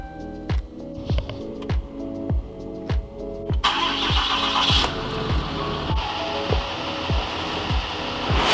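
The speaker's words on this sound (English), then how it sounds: "I need to get this truck started, get it warmed up" A pickup truck engine cranking with a steady rhythmic chug of about a dozen starter turns, then catching and settling into a loud, close idle with broadband engine noise; no talking.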